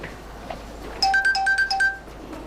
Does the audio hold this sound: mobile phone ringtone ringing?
yes